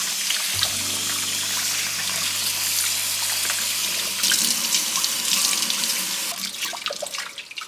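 Tap water running into a sink while bok choy is washed, a steady full rushing stream with a low hum early on and brighter splashing and trickling toward the end, no voices.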